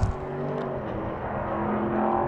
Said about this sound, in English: Starts right up, choke is off, you know.